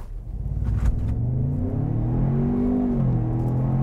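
A 2021 Ford Bronco Sport Badlands accelerates in manual shift mode, its engine note rising steadily and loud from inside the cabin with a continuous rumbling drone and no talking.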